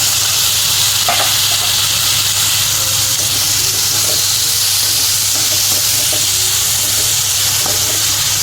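Finely chopped tomatoes hiss loudly in hot oil with ginger-garlic paste for a chaat chutney, a dense, steady, close sizzle with occasional faint stirring clicks and no talking.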